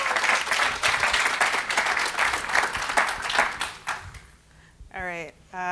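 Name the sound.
audience applause for a speaker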